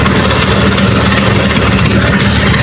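Vespa Sprint scooter engine idling during a test of its full-wave electrical setup, a loud, steady, close putter with an even low rumble and no talking.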